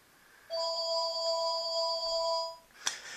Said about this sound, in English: And yeah, that's the phone.